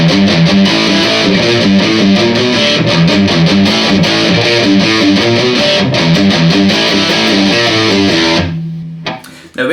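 Heavily distorted electric guitar chugging a riff, played loud and steady in a tight rhythmic pattern for about eight seconds before stopping abruptly and ringing out.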